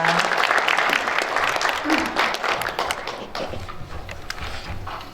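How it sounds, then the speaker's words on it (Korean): Sustained audience applause at a Korean journalism awards ceremony, a dense steady wash of clapping from a sizable hall crowd, loud at first and slowly thinning, with faint voices underneath. "박수 부탁드립니다"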